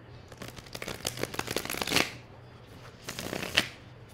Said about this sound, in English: I'm going to give this deck another shuffle because those were sticking together.